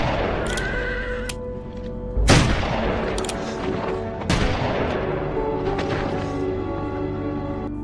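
Two sharp, loud gunshots ring out in a western film scene where a cowboy executes people in a town square, with a horse whinnying and a busy background of scene sound between the shots.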